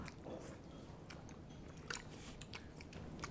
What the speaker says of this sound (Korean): 이거 한 입만 일단 먹을게요.